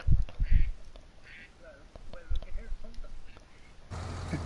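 Farming Simulator 19 plays a duck's quacks, a few short, close honking calls at the start, then quieter intermittent sounds with soft background murmuring.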